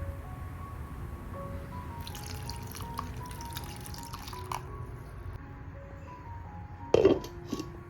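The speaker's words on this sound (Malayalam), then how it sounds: "ഇനി ചേമ്പൊന്ന് വേവാൻ ആവശ്യമായ 2 കപ്പ് വെള്ളം കൂടി ഒഴിച്ചു കൊടുക്കുന്നുണ്ട്" Water is poured into a pan of taro pieces and slit green chillies while making kalan, a faint trickle and soft dripping with a brief louder splash near the end.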